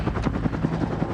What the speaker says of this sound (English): The UH-1 was also the world's first dedicated attack helicopter.